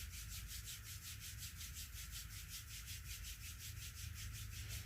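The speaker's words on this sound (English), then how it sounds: "Start to rub your palms together." Palms rub briskly together in a fast, even back-and-forth rhythm, a close, soft dry swishing that carries steadily for about five seconds with no talking.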